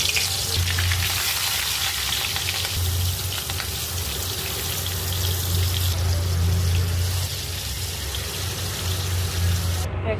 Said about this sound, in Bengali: প্রথমতে আমি হালকা হলুদ আর লবণ দিয়ে মাছগুলো ভেজে নিব।